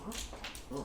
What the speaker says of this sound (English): That's my dog groaning at people walking by.